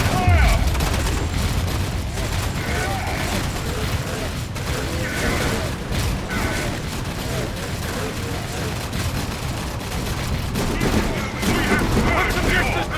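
Rapid gunfire in the Warhammer 40,000: Dawn of War 3 PC game: a dense, sustained fusillade of overlapping shots and booms, with in-game voice lines mixed under the battle noise.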